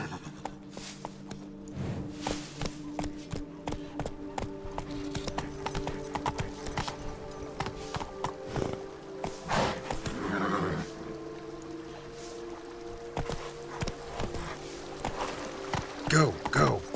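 A horse gallops with steady clip-clop hoofbeats and neighs in The Witcher 3 video game, the hooves loud and close over a music and ambience bed, with brief talk now and then.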